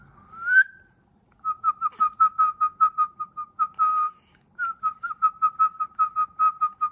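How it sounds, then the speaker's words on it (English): Someone whistles a rapid run of short, bright notes in two bursts, clear and close, with a brief rising whistle at the start. "You can start whistling."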